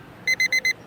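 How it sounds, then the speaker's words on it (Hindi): Mobile phone alarm beeping at 6 a.m., four quick, bright electronic pulses in an even rhythm, close and clear against a quiet room. "सुबह 6 बजे मोबाइल का अलार्म बजा।"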